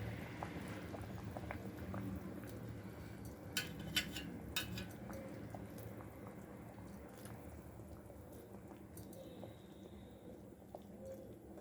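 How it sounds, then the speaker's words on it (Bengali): A pot of thin rohu fish curry broth with potato and lentil dumplings bubbling at a steady boil, a soft continuous simmer with a few brief clinks or splashes partway through. "ঝোলটা ভালো করে ফুটে গেছে।"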